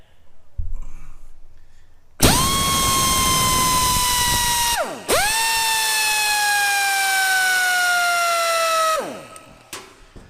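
A pneumatic air tool runs wide open in two long bursts, a loud steady whine with a brief dip between them that winds down at the end, fed through an air hose.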